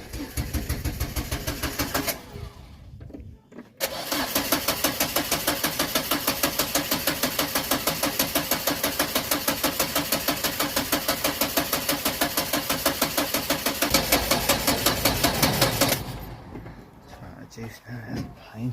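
Engine of a 1985 Renault 5 GTL cranking with a rapid, even starter rhythm for several seconds after a brief earlier attempt, then catching and running before dropping off; loud and close, with no talk over it.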